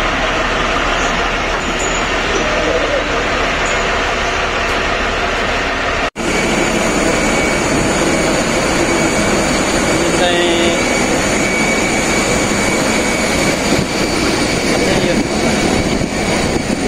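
Steady broadband roar of aircraft and vehicle engines on the apron at Bangalore International Airport, heard from inside a bus carrying passengers to the plane, loud and continuous with a brief dropout partway through.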